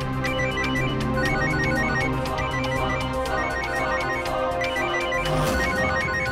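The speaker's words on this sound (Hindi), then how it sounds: "कहीं फोन स्वाति का तो नहीं?" Telephone ringing inside a house in an Indian devotional TV drama, a steady, loud electronic ringtone with repeating chiming notes that continues without pause.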